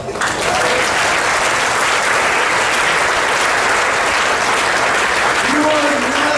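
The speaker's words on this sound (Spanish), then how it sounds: "Denle un aplauso a ti" Sustained applause from a church congregation fills the space, steady and dense from start to finish, with some voices mixed into the clapping.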